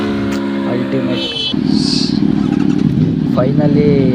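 An Aprilia RS V4 sport motorcycle rides past during a superbike flyby with a Yamaha R1, Kawasaki ZX-10R, Ninja 1000 and Z900, its engine note swelling loud and close as voices talk over it.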